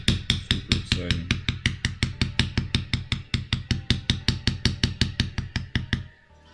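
Metal scale bevels being hammered into an armor cuirass, a fast, even run of sharp ringing hammer strikes, about two dozen in quick succession, close and loud before stopping near the end.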